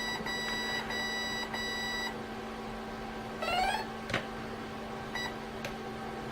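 An RC jet boat's electronic speed controller gives a short run of high beeps in a quick sequence, then a rising chirp pattern and a couple of isolated beeps, over a steady hum.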